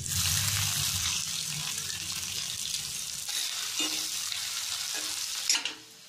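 Onions sizzling loudly in hot oil in a pan with garlic, cumin and asafoetida for a potato and fenugreek curry, a steady close hiss with a brief stir clink near the end.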